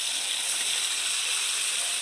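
Chicken pieces fry in oil in a wok for biryani, giving a steady, loud broadband sizzle and hiss that runs unbroken for about two seconds, with no voices.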